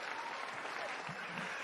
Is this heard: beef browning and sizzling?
no